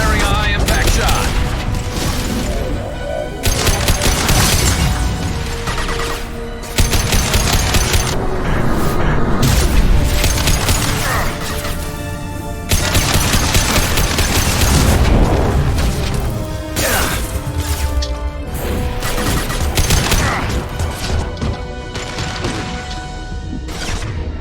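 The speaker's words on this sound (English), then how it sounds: "Firing a high impact shot." Weapon fire and heavy impacts from the sci-fi shooter Mass Effect 2 come in loud, dense bursts of booms and crashes, close and nearly continuous, with game voices calling out over the action.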